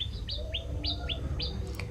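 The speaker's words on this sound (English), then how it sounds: "the flowers and some very nice trees attract beautiful birds like this variable sunbird" A variable sunbird in Uganda gives a quick series of about six thin, high chirps in steady rhythm, close and clear over a quiet background.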